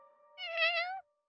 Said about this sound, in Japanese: 何よ、ただの猫じゃない。